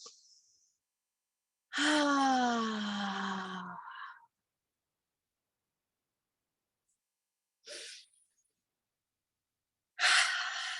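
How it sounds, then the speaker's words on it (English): A slow, deep inhalation taken alone in a quiet room during a guided breathing exercise, lasting about two seconds, followed by silence and two short, soft breathy sounds later on. "take a deep breath in"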